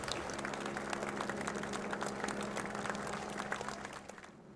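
Crowds lining the Liverpool streets applaud Cilla Black's funeral cortege, a steady outdoor patter of many hands that carries on for several seconds before thinning at the end.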